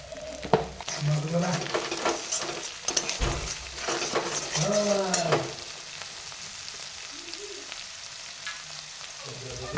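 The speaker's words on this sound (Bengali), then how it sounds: "ভালো করে নেড়ে ছেড়ে ভেজে নেব।" Food being stirred and fried in a pan, a steady sizzle with scraping stirring strokes throughout, fairly close, no talk.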